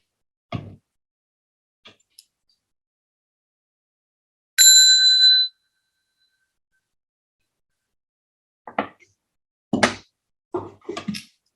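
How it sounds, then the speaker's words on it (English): A single clear bell strike before Buddhist puja chanting rings out for about a second with a bright, pure tone, set among a few soft knocks and thumps in an otherwise quiet room. "I will just ring the bell."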